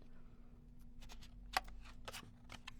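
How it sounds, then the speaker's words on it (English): Scissors cutting out stamped paper images at a craft table, a quiet run of short snips and paper rustles, close and alone without talk. "So we're gonna take a little bit of time and just cut these images out."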